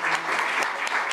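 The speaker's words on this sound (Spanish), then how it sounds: "la cual también solicito fuertes aplausos" An audience at a book presentation applauds, a dense steady burst of many hands clapping at close range.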